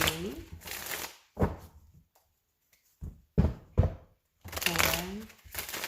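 A deck of tarot cards is shuffled by hand in several separate bursts of crisp riffling and flapping, with short pauses between, while someone talks over some of the shuffles.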